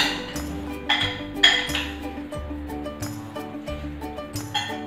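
A spoon stirring a soy sauce topping mixture in a bowl, with repeated clinks and scrapes at a steady rhythm, close by and moderately loud.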